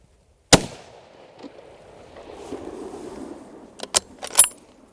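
A Ruger carbine fires outdoors: one sharp crack, then quiet rustling, then a quick cluster of three or four cracks near the end.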